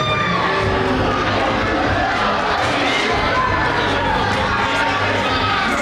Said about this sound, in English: Capacity crowd here at the Kansas City, Kansas National Guard Armory, raining down a chorus of boos to this competitor, Davey Vega.